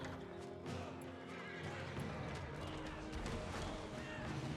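Mounted horse archers gallop across the battlefield of a strategy video game, a faint, dense patter of many hooves mixed with neighs and clashing, steady throughout.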